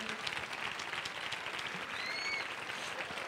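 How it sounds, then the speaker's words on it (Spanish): An audience applauds at a children's coronation gala at the Casares fair, a steady wash of clapping that holds at moderate volume throughout. "Un fuerte aplauso"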